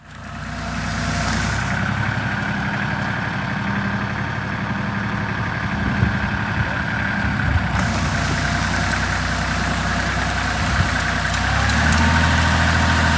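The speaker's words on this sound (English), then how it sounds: "The little Ford tractor's doing great." A small Ford tractor engine runs steadily throughout, a low rumbling idle with a constant drone, close by and with no voices.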